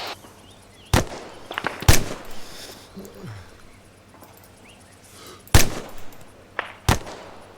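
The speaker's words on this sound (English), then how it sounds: "Charlie Fire Team, deliberate fire on building." Gunfire in the video game ArmA 3 during a platoon attack training on a building: four loud sharp shots spaced irregularly over several seconds, with faint distant pops and background ambience between them, no talk.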